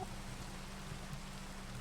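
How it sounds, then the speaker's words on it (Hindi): Steady rain falls in the Minecraft video game, a constant soft hiss of pattering drops with a low hum underneath, even and unbroken throughout with no talking. "बारिश अभी भी चली रही है"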